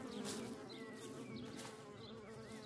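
Honeybees swarm in a dense buzzing cloud at a hive entrance where guard bees are fighting off intruders, a close, continuous hum with individual wingbeats whirring past.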